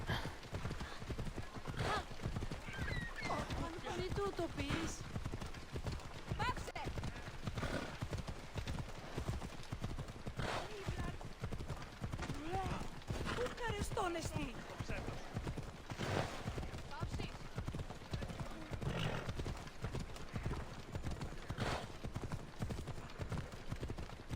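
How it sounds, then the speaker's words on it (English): A horse's hooves gallop in a fast, steady clip-clop rhythm, close and loud, continuing without a break from start to finish, in the video game Assassin's Creed Odyssey. "Oh, you went on the horse."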